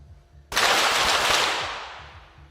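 A single sharp pistol shot at a 25m women's junior pistol competition in Osijek, Croatia, fired from a range firing point, loud and close with a long echoing decay across the range.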